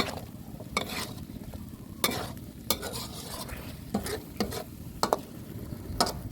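Chicken wings with dried chilies and basil sizzle in a wok while a utensil stirs and scrapes in short, repeated strokes, close up with no talking.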